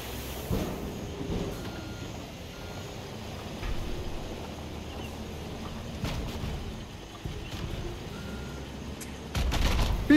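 Truck reversing beeps sound in the Construction Sim concreting game, a steady repeating alarm over a constant low engine rumble, with a heavier burst of machinery noise near the end.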